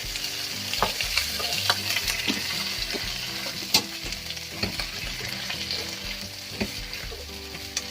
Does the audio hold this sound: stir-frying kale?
yes